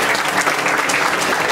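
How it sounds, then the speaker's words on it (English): Dense, steady audience applause at a college department event, a continuous wash of many hands clapping at close range with no pauses. "Let's give a huge round of applause again."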